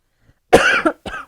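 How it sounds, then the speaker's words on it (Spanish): A single sharp cough followed by a second shorter cough, close and loud, from a man preaching at a church service. "no, ya no quiero toser"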